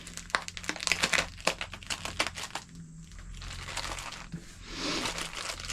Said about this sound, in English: we packed them up into this plastic bag for 10 hours, and let's open that up